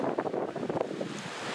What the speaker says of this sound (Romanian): Vântul este foarte puternic.